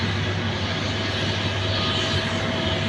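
A Vistara Airlines airplane accelerating for takeoff gives a sustained, even engine roar with a low droning hum underneath, heard from a moderate distance and holding steady without breaks.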